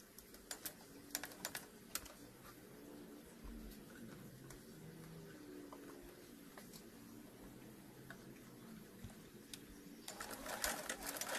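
A sewing machine stitches a cloth face mask, running in a steady mechanical patter with a few sharp clicks and rattles at the start and end, quiet and close, with no one talking.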